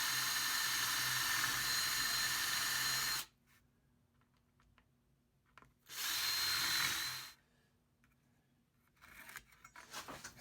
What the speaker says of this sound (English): I think a 5/16 drill bit will work on this